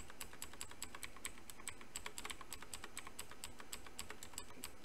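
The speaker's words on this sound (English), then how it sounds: "so I'm not just tapping away at the keys" Quiet typing on a computer keyboard, a steady stream of quick, light key clicks in an irregular rhythm over a faint background hiss, with no voices.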